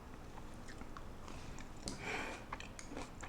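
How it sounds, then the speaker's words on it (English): Someone chewing and biting into a Chinese-style tofu dish at dinner in a Japanese home kitchen, with soft, close, irregular crunchy mouth sounds over a quiet background. "I know the sound of me chewing is gonna be really, really annoying"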